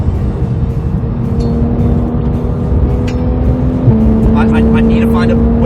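A Porsche 911 GT3 Street Cup car drives with a steady, loud engine drone that shifts pitch once as it changes gear, heard from inside the car while a person talks over it.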